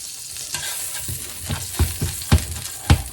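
Truffle butter melts in a hot pan, with a soft sizzle under a series of louder spoon or spatula knocks and scrapes against the pan that grow stronger toward the end; nobody speaks.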